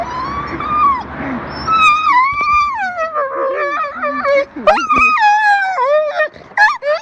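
A dog reunited with its owner whimpers, whines and wails in rising, wavering cries, then gives a few sharp barks near the end. Close and loud, with excited human voices mixed in.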